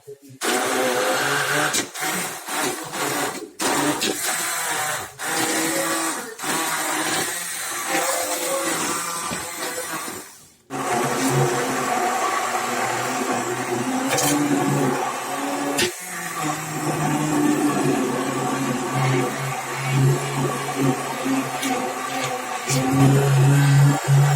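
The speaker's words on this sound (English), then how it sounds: "now we're going to start to use the immersion blender to blend it all together" An immersion blender whirs loudly and continuously as it purees carrot and ginger soup into a smooth paste, with the motor pitch shifting as it works through the thick mixture and a brief pause midway.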